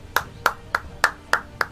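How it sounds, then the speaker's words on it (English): Six sharp hand claps in an evenly spaced, slow rhythm form a brief applause effect in Assassin's Creed 3 multiplayer, each clap crisp and close with quiet gaps between. "Applause!"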